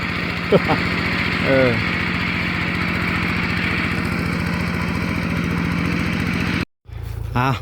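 A Kubota tractor engine runs steadily and loudly up close while plowing a rice field, a rough low drone that cuts out briefly near the end before starting again.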